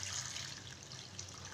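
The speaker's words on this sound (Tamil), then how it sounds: "தண்ணி ஊத்திட்டு நம்ம கரைச்சி எடுத்துக்கலாங்க" Water pours onto a ball of jaggery, about 200 grams of it, to dissolve it in a home kitchen. The pour makes a steady, close splashing trickle that holds for the whole short stretch, with no voices.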